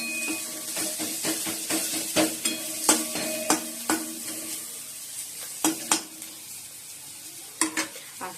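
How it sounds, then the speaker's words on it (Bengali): Onions frying in a pan sizzle steadily, with repeated sharp clinks and scrapes of a utensil stirring against the metal, no voices present. "আর এদিকে পেঁয়াজটা একটু ভেজে নিচ্ছি"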